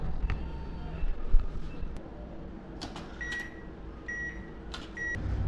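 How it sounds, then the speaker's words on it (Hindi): An ATM dispenses cash with soft mechanical whirring and clicks, plus a few short electronic beeps near the end, heard at low level. "पेमेंट निकलने की आवाज़ जरूर सुनाऊंगा"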